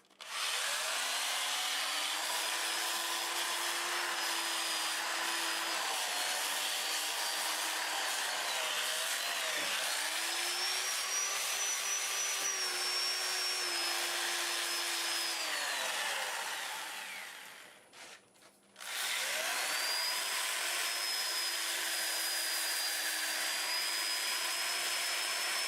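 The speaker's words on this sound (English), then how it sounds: "I'll spin the lathe about 350 and sand it under power." A steady whirring hum of a wood lathe spinning at about 350 rpm while a piece is sanded, with a scratchy rubbing texture over it, briefly dipping near the end before resuming.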